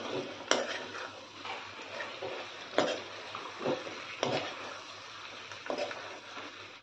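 Stuffed tinda masala sabzi stirred and fried in an open pan, with several distinct clinks of a spoon against the pan over a low, steady sizzle, fairly close and without talking.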